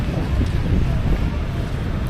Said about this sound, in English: It's windy, definitely.